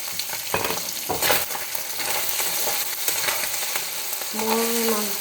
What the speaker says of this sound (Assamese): এয়া দেখিছে, মই কেৰাহীত মাছখিনি দিছোঁ, মাছ ভাজি আছোঁ।